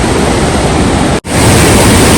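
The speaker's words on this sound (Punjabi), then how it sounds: "ਨਦੀ ਦਾ ਬਹਾਅ ਬਹੁਤ ਹੀ ਜ਼ਿਆਦਾ ਤੇਜ਼ ਆ" A fast-flowing mountain river on the route to Hemkund Sahib under cloud-covered peaks, roaring as a loud, dense, continuous rush of water with a brief dropout midway.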